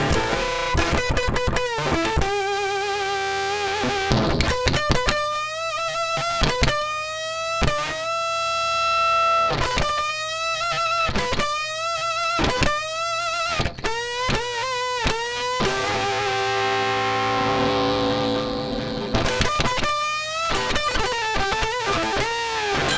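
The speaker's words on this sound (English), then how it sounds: "If you're actually driving a high gain amp, like a high gain channel on your amp, this thing is like, it creates some pretty unreal tones." Heavily processed electric guitar through an effects unit into a high-gain amp channel, giving robotic, glitchy distortion; loud sustained chords and stuttering notes play continuously for over twenty seconds with no talking.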